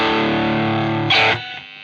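Electric guitar through an overdrive pedal with gain turned fully up into a clean amp, a gritty sustained chord ringing loudly, then a brief scratchy strum before it cuts off.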